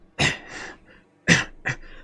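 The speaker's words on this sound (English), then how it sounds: "Man, I am coughing a lot today." A man coughs twice, the first a harsh burst trailing into a rough exhale, the second a sharp double cough a second later, close and fairly loud with no talk.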